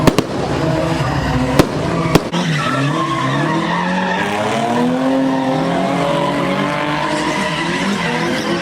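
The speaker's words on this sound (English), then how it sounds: "Oh, they're getting fancy out here right now with the fireworks." Fireworks go off at a nighttime street car meet, giving sharp cracks and pops near the start. Screeching tires and revving engines from cars doing burnouts then fill the scene with loud, continuous noise.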